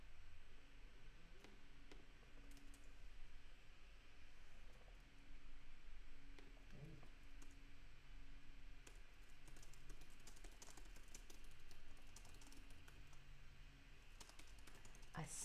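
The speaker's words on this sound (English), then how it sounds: "I'm literally typing that right now." Fingers tap on a computer keyboard in quick irregular bursts, faint and close under a steady room hiss, with no speech.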